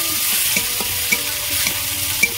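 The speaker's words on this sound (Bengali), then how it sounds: "আদা আমি ভালো করে ভেজে নিয়েছি" Ginger paste fries with tomato in a pan, a soft sizzle broken by a few distinct spatula scrapes and taps as it is stirred.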